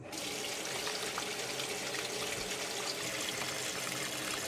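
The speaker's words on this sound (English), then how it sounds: "we are going to fill this bowl with some cold water" A kitchen sink tap runs cold water into a bowl, a steady broadband rush and splash that holds evenly for several seconds with no voices over it.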